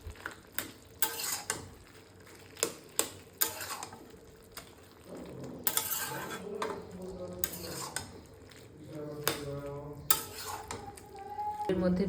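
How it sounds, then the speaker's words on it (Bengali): Leafy greens cooking down in a pot are stirred, producing repeated loud clanks and scrapes of a utensil against the metal over a soft simmering sizzle, close and irregular, with no voices. "তো এইভাবে আমি ভালোভাবে নাড়াচাড়া করে করে সেদ্ধ করে নেব"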